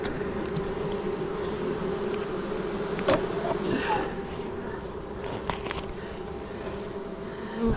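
Honey bees buzz around an open backyard beehive, a steady close drone with a few louder passes as individual bees fly near, under faint handling noises.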